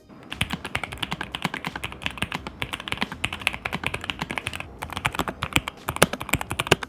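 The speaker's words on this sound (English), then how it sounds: "show you how it sounds to type on this board" Rapid typing on a Luma 84 hot-swappable mechanical keyboard, a steady stream of crisp, close clicks with brief pauses between bursts.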